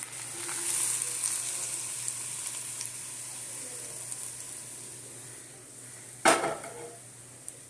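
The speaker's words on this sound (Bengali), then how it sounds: "তেলটা গরম করে দেব ওর সঙ্গে এটাকে গরম করে দিলাম" Mango pickle heating in hot oil in a pan gives a steady low sizzle with light pan clatter and a sharp clink near the end, close by with no talk.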